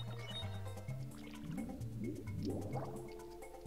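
Water draining away in Super Mario 64, a soft gurgling, bubbling liquid sound with rising watery tones over a low game hum, fairly faint.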